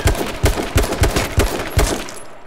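Gunfire in the video game H1Z1, a rapid string of about eight sharp shots in quick, slightly uneven succession, loud and close with no talking over them.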